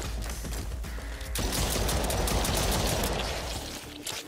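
Dense, continuous gunfire from small pistols in a sci-fi alien shooter game, a rapid overlapping fusillade that stays loud and steady throughout, swelling slightly midway.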